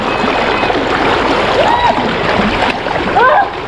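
A mountain stream flows along a hiking trail on Lanawan Ridge, a loud steady rush of water close by, with people talking and calling out over it.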